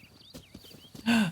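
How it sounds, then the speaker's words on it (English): Horse hooves clip-clop softly in The Legend of Zelda: Breath of the Wild, a few faint steps under quiet game ambience, followed by a louder burst near the end. "Oh, the horsey came to me."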